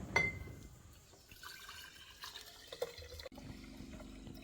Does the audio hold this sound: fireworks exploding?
no